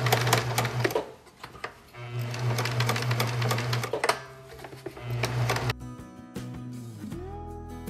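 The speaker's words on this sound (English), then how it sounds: "Now we're ready to sew that into place" A sewing machine runs a back-and-forth stitch while elastic is sewn into a reusable fabric bowl cover, in three rapid mechanical bursts separated by short pauses, with light handling clicks between them.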